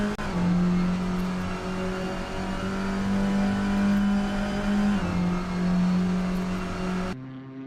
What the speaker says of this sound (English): There's not much better than sitting near here and watching the cars speed by.